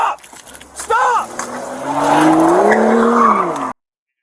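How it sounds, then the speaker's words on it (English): A stolen car speeds off at traffic lights after hitting other cars, its tires squealing in a long rising and falling screech over a loud revving engine, close and intense, with a brief voice near the start. "the driver hit the gas pedal, collided with a few cars to clear the way, and accelerated"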